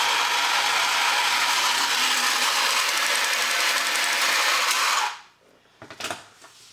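Metal gears turning inside a 1962 Japanese mechanical adding-machine robot, a steady dense ratcheting whir running continuously for about five seconds, then stopping abruptly, followed by a few faint clicks.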